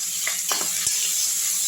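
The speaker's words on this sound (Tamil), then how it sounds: "அடுத்து அதுலேயே இந்த துருவின வெங்காயத்தை போட்டுங்க." Grated onion sautéing in a pan over low heat, a steady close sizzle with a few soft stirring scrapes near the start.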